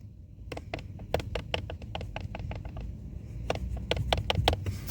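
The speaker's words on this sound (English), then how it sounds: "This kind of sounds like the rattling noise that I just so hate in an otherwise perfectly quiet car" Loose connector rattling on the passenger side of a Kia Ceed Plug-in Hybrid, quick irregular clusters of small ticks and taps over a low cabin rumble, fairly faint and without talk.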